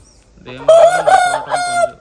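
A Bhimavaram line rooster, an 18-month-old show winner about 3.5 kg, crows once loudly and close, a single long drawn-out call with a faint bit of talk around it.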